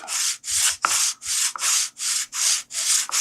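An aluminum sanding block is pushed back and forth by hand against a raised wooden piece, giving eight even, rhythmic rasping strokes, close and clear with no talking.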